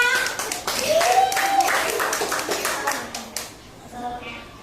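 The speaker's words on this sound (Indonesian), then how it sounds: "tepuk tangan untuk kelompok Laos" Group hand clapping in a classroom lesson, a brisk burst of many hands that fades out after a few seconds, mixed with children's and adults' voices.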